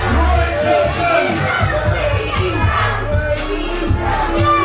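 Wrestling arena crowd at a Future Pro Wrestling event reacting to Roy Johnson's title win, a dense steady roar of booing, shouting and chatter filling the hall throughout.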